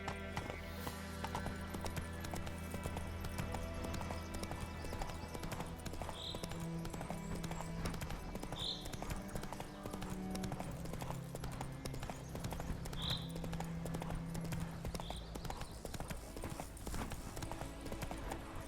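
Rhythmic clip-clop of the horse Roach's hooves at a gallop in a video game, a steady close beat running the whole time over a background music bed, with a faint occasional whinny.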